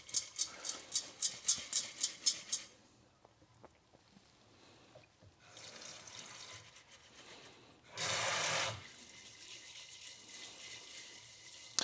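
Tap water runs over lentils in a kitchen sink, a steady broadband hiss in bursts, with a loud close gush near the end after quieter rinsing and rubbing sounds.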